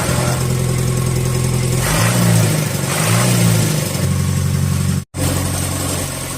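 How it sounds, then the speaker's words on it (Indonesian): Engine of a bagan fishing boat off North Kolaka, Sulawesi, chugging steadily at idle, with two rising-and-falling revs in the middle and a brief cut before it settles back into a loud, even rumble. "Akan menyalakan mesin."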